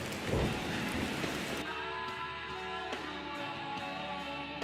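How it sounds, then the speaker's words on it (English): Aggressive rain ambience layered into a music track, a dense wash of rainfall under rumbling low tones, with sustained tonal music entering after a couple of seconds and steady loudness throughout. "This rain sound is aggressive"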